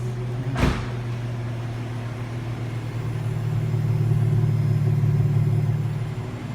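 An Infiniti G35 coupe engine idles close by, a steady low rumble with a brief sharp click near the start and the tone swelling slightly louder later on.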